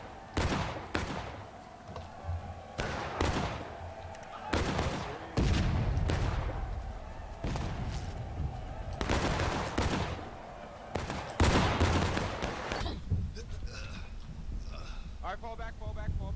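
Musket volleys crack out in the War of Rights video game, with repeated loud bursts of massed fire coming in uneven waves and a commander's voice shouting orders between them.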